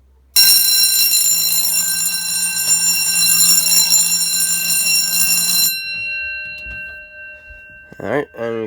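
After a smoke detector test, an Edwards 6632 fire alarm panel blares a loud, steady alarm tone for several seconds before it is reset and stops, followed by a short stretch of speech.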